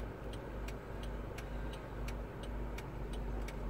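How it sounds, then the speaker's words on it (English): Inside a car being driven to park, a steady low engine and road hum runs throughout, with a regular ticking from the indicator clicking about three times per second. "Come on, we'll park the car."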